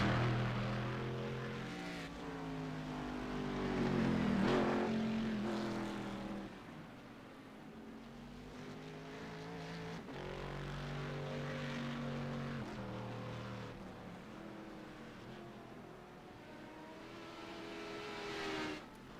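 A Corvette GT1 race car engine in a sports car racing video game, its steady droning roar rising and falling in pitch as it accelerates and shifts, loud and continuous throughout, with no talk.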